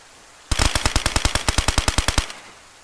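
A long burst of rapid automatic gunfire in the video game DayZ, around twenty evenly spaced loud shots in under two seconds, then silence.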